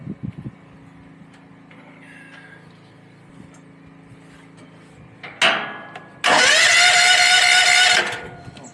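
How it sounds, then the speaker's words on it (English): Mini excavator engine on a homestead, quiet rattles and ticks, then a brief crank and a loud roaring catch that holds steady for a couple of seconds before cutting off. "let's see if I can get it to fire up again"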